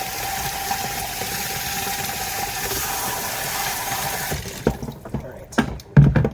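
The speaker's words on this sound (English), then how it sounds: "I highly recommend getting one of these pressure washer things because they come in very handy" Pressure washer spraying water while cleaning a tank leak, a loud continuous hiss and rush with a motor hum that cuts off near the end, followed by scattered knocks and handling noises.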